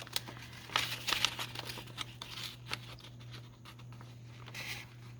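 Junk mail envelope paper being folded along its crease by hand, with soft crinkling and rustling bursts early on, then quieter scattered paper handling over a low steady hum.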